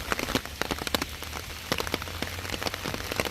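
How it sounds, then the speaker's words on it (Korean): Steady heavy rain pattering densely on a surface nearby, with many distinct drops tapping over a constant wash. "비가 제법 많이 내리고 있습니다."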